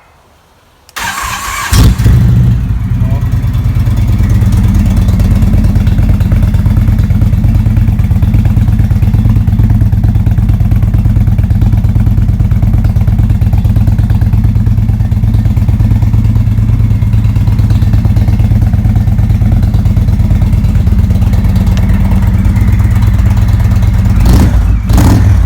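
A 2017 Indian Roadmaster motorcycle fitted with Vance and Hines Classic Slip-On exhausts starts and settles into a loud, steady, deep idling rumble that continues close up for over twenty seconds, ending with a couple of brief blips.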